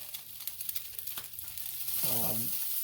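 Salmon skin searing in a hot pan gives a steady close sizzle that swells louder toward the end, with a few small clicks and taps of handling over the hiss.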